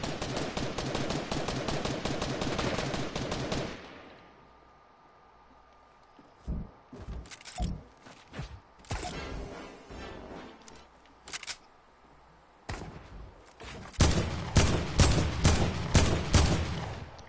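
AK assault rifle fire in Fortnite, a long rapid automatic burst followed by a quieter stretch of scattered single shots and short volleys, then another heavy sustained burst, loud and close.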